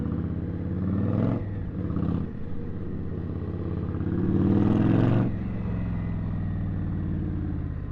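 Motorcycle riding through New York City streets, either an Indian or a Triumph Street Triple, its engine a steady, loud drone with a couple of brief throttle swells and no voices.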